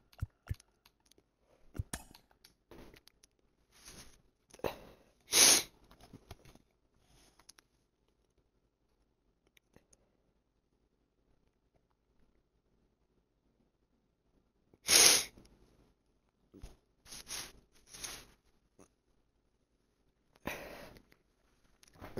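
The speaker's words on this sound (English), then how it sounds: "Just can't stop sneezing." Repeated sneezes in short bursts, one near the start and several more later, separated by quiet gaps with faint breathing between them.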